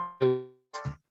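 A mobile phone rings indoors, two close bursts of a bright electronic ringtone with a steady tonal melody, loud and clear with a brief gap between them.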